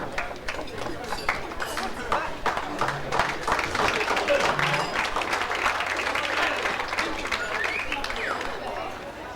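Applause from a banquet hall audience at a college athletic banquet, dense steady clapping swelling and sustained for several seconds, with murmured chatter underneath.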